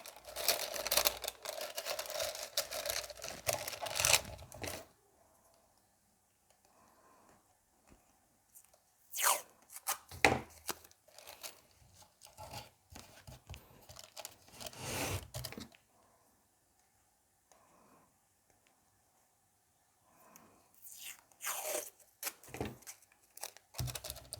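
Masking tape is torn from the roll and pressed into a wooden soap mold to line it, giving bursts of ripping and crackling in several clusters separated by quiet pauses, close and fairly loud, with no talking.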